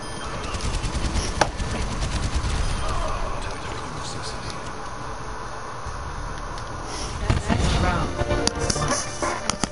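Torbjorn's automated turret in Overwatch fires steady bursts amid a dense, noisy game mix of gunfire and effects, with a few sharper shots standing out near the end.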